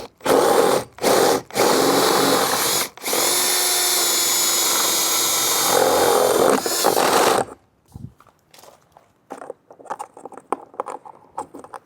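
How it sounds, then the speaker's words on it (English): A power drill with a 1-inch paddle bit cuts through a truck tonneau cover, running in loud sustained bursts with short stops, then falling quiet to faint handling clatter. "I'm going to put my 1-inch paddle bit on to cut through my tonneau cover"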